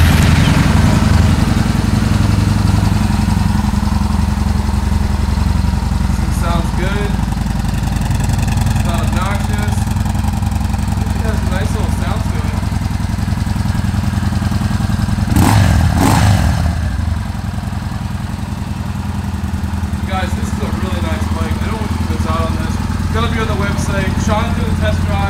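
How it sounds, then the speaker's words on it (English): A 2015 Yamaha Bolt motorcycle engine starts and settles into a steady, close idle with a low, uneven mechanical chug, while someone talks over it. "We're gonna fire it up. Got the kill switch and the starter on the same button here on this Yamaha."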